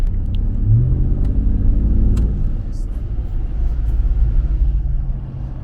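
A 2023 RAM TRX pickup truck cruises at about 30 mph, its engine and road noise forming a steady low rumble heard from inside the cab, with a brief swell of revving early on.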